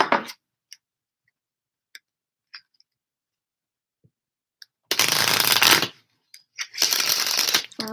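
Tarot cards handled for a reading: a few soft ticks and taps over quiet, then two loud, close bursts of riffling shuffle, with no voices.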